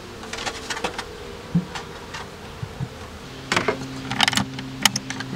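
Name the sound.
honeybees buzzing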